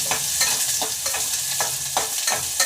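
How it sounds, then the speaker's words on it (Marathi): Onion frying in a pan with mustard seeds and cumin for matki usal, stirred with a spoon: rhythmic scraping strokes about every half second over a constant close sizzle. "मोहरी जिरं टाकणं झालं का कांदा टाकायचं."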